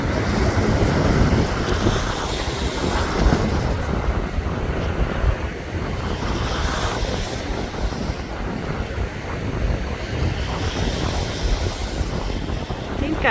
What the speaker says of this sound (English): Just look at those waves.